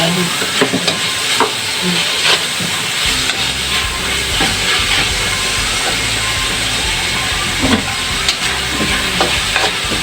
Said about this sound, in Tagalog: Kailangan igigisang mabuti yung karne para malasa at hindi siya malansa